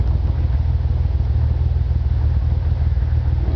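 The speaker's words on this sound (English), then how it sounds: "It's idling now right around 700 RPM." A car engine idles steadily at about 700 RPM with the emergency brake engaged, a continuous low rumble that holds even and close throughout with no other sounds.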